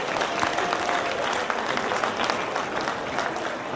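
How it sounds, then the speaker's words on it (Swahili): Audience at a 2013 Madaraka Day public event in Kenya applauding a senator, a dense, steady wash of clapping from a large crowd that stays loud throughout. "Mpeni Senator makofi ya sawa sawa jamani."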